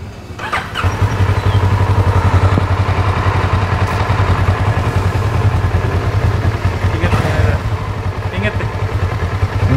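A clutch-type motorcycle starts with a sharp crank burst, then settles into a loud, steady, close idle with a low thumping throb. The idle carries on to the end, with a couple of brief rev blips.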